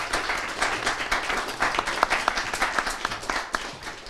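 An audience at a leadership panel talk applauds the speakers, a dense patter of many clapping hands at moderate distance, steady for a few seconds and then beginning to thin.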